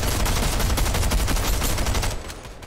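SMG gunfire in Fortnite, a loud continuous rapid-fire burst that runs for about two seconds before stopping abruptly into quieter game ambience.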